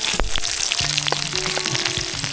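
Eight to ten garlic cloves dropped into hot oil with bay leaf, cloves and black peppercorns while cooking over a campfire, a close crackling sizzle with a few pops and clinks over a short stretch.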